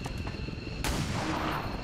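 A single pistol shot fires in the tactical strategy game XCOM 2: one sharp, loud crack with a short decaying tail, over a steady bed of in-game ambience.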